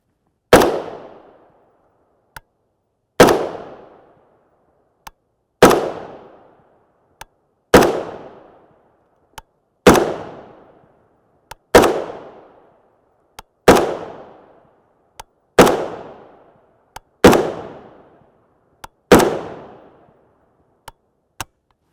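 A 10.5-inch short-barreled Zastava M92 PAP rifle with a JMAC Customs muzzle brake fires 7.62x39mm 124gr JHP rounds: nine loud, sharp shots at steady intervals of about two and a half seconds, each ringing out, with faint clicks between them.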